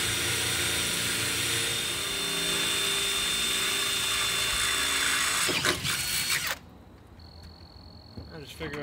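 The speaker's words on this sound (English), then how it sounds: "Figure out where my wire goes inside, drill a hole, put a grommet in it." A power drill bores a hole through a trailer wall for a backup camera wire, a loud steady whine running several seconds before stopping abruptly, followed by a quieter faint tone and small clatters.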